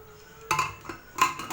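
Metal spoon stirring green moong dal, water and salt in a pressure cooker, giving a few clinking scrapes against the pot in two short bursts, close and fairly quiet.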